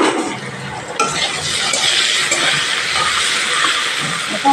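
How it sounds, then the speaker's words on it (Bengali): Potato pieces frying in a pan with salt and turmeric for a katla fish and fig curry, giving a steady, close hiss of oil with light stirring throughout, no voices. "নুন একটু হলুদ দিয়ে ভেজে নেবো আলুগুলো।"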